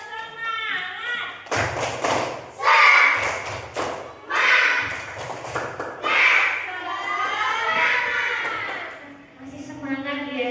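Students in a classroom repeat a rhythmic chanted clapping ice-breaker, with sharp bursts of group claps and thumps between loud unison chanting and shouting voices.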